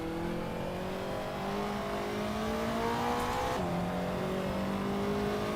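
Car driven in Assetto Corsa Evo, a racing game, with a sustained high-revving engine whine that climbs in pitch, drops briefly at a gear change and climbs again, loud and close with no talking.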